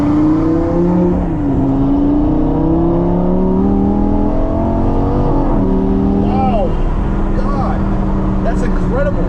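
A Lamborghini Gallardo's engine pulls hard while driving, its note climbing and dipping through gear changes in a loud, close drone, with a voice talking over it.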